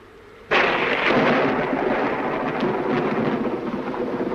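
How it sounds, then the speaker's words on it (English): A sudden loud crack of thunder from a storm breaks out of a quiet background and rolls into a long, heavy rumble over steady rain, with no talking. "I love thunderstorms, don't you?"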